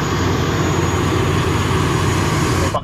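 A small airplane's engine drones at an airport, a loud, steady, continuous roar close by.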